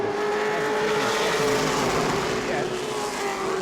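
Stock race cars roar into turn 3 at New Smyrna, a steady loud engine drone held throughout, with an announcer talking over it.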